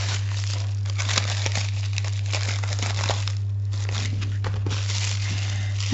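Close, continuous crinkling and ripping as plastic wrapping is torn open, with brief pauses between bursts and a low hum underneath.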